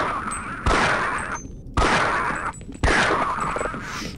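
Three loud gunshot blasts in the video game Half-Life, each followed by a ringing decay, spaced about a second apart with no talking.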